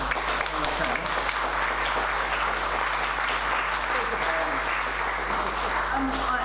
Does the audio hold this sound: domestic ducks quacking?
no